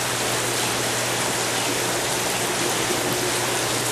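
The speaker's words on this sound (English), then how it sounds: "to beautiful fountains" Water pours steadily from a garden fountain in a stone-and-outdoor-products showroom, a continuous close splashing rush with a faint pump hum beneath.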